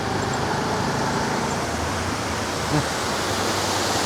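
Steady broadband rushing of a small stream flowing nearby, near a tea factory in Mandaram Nuwara, Sri Lanka, continuous and even throughout with no voices.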